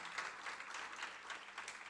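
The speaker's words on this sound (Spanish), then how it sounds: "Denle un fuerte aplauso al Señor." A church congregation gives a loud round of applause, a dense, steady wash of many hands clapping at once, heard somewhat distant and faint.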